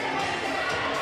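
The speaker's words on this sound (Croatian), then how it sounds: "aplauz za Šnebergera" A school crowd at a sports games finals award ceremony cheers and claps for a winner, a dense, continuous roar of voices and shouting children filling one second at steady loudness.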